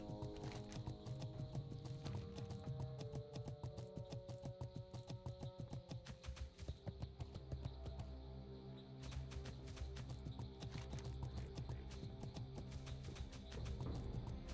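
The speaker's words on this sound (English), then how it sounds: "It's a demonic horse." Steady clip-clop of a demonic horse mount's hooves in World of Warcraft, running continuously over game music, moderately loud throughout.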